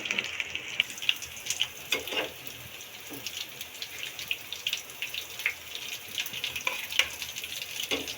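Cabbage kebabs frying in hot oil give a crackling, bubbly sizzle with uneven pops and spatters throughout, close and moderately loud, no talking.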